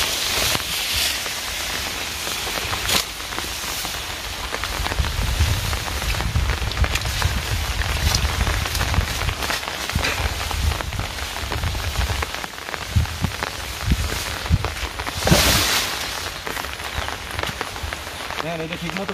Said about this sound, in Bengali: আর এরপরে হচ্ছে নামছে বৃষ্টি,